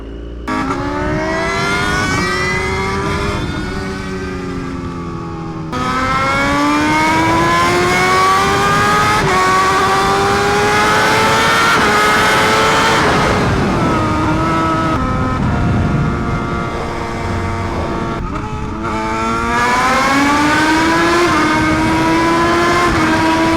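A BMW HP4 Race motorcycle fitted with a new full Brutello R exhaust revs hard, its loud, rasping engine note climbing and falling through several sustained rises and drops, close and with no talk.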